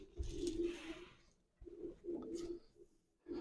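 A pigeon coos up close in a loft at a pigeon club show, giving two drawn-out, throaty bursts of low cooing separated by a brief pause.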